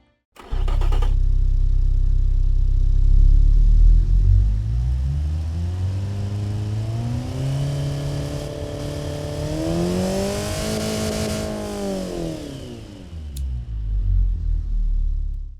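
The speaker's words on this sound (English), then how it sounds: "let's give you here what this Bing AI engine sounds like right here" A car engine built by AI in the Automation and BeamNG.drive games revs up from idle, climbing and falling in pitch through several sustained pulls before settling, loud and alone.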